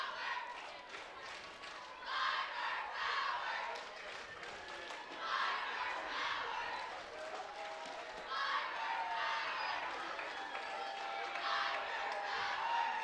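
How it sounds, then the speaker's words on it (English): High school football crowd in the stands cheering in several swelling waves, fairly distant, with a commentator talking over it. "a good cheer from the crowd"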